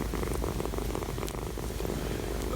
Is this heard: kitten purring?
yes